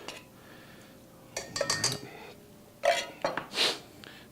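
Drained crushed pineapple from a 20-ounce can is scraped and tipped into a dish in a home kitchen, giving a few soft wet plops and metallic clinks of the can and spoon in short bursts.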